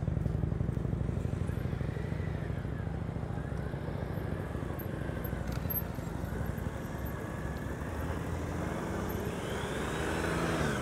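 A motorcycle in first gear during slow-speed riding practice: a continuous low engine drone with gently rising and falling pitch as the throttle varies, steady and fairly close throughout.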